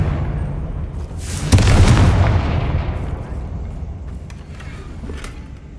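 A Confringo blasting spell explodes in Hogwarts Legacy, a loud close boom with a sharp onset that swells into a long rumbling roar and fades slowly over several seconds amid faint background noise.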